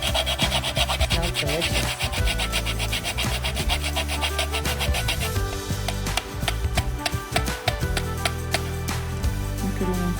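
Spices being ground by hand for homemade raisin bread give a loud, close, rhythmic rasping and scraping that runs steadily throughout, with a brief spoken remark.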